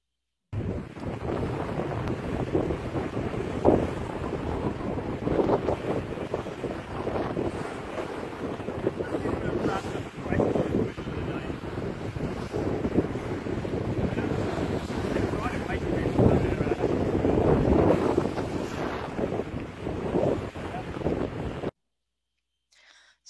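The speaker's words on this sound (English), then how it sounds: "here is a quick video of us heading out on our first ocean sail" A sailboat heads out onto the open ocean, with loud, steady wind buffeting the microphone over the wash of waves against the hull, continuous for about twenty seconds before cutting out.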